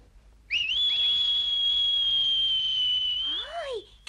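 A grandfather whistles one long, steady, clear high note lasting about three seconds, close up, ending with a few quick upward whistled flourishes before a voice cuts in.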